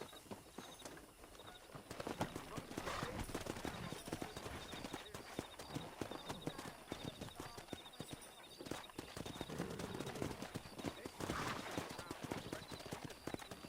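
Horse hooves clip-clop steadily at a trot in the video game Red Dead Redemption, fairly faint, mixed with rustling ambience and an occasional distant snort.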